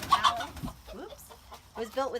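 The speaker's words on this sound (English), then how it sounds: "there's a whole bunch of chickens" Chickens cluck in a garden coop built from donated pallets, giving a few short bursts near the start and again at the end, with a quieter stretch between.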